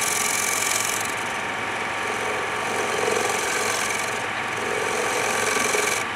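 A carbide tool scrapes and flattens the glue block area of a wooden bowl spinning on a lathe, a continuous close rasping hiss over the steady hum of the motor, with no voices.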